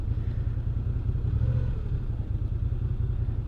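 A Moto Guzzi V9 Roamer motorcycle engine runs at a steady low, throbbing rumble, loud and close, with no voices over it.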